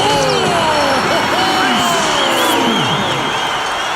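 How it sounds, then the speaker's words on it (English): A big arena crowd roars and buzzes steadily through an NBA 2K12 basketball game, a dense, loud wash of cheering with shouts rising out of it and squeaks from the court. "With that one, boy, they got the crowd buzzing there."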